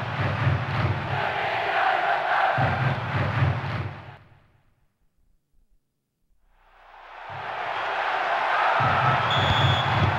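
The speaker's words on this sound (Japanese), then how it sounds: "サポーター狂喜乱舞。" A video game football crowd roars after a goal in a J.League match, a loud, dense wall of cheering that fades out to near silence midway and then swells back to full volume.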